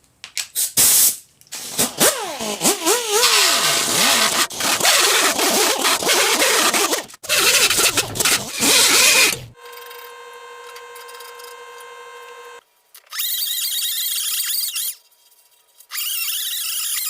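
Power tools grind out dents on a cafe racer motorcycle tank, loud harsh grinding bursts with a rising and falling whine, broken by pauses, then a steady high tonal drone and more short grinding passes.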